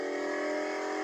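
A powerful car engine revs in a racing video game, giving a sustained, bright, strongly tonal roar that stays loud and steady for about a second.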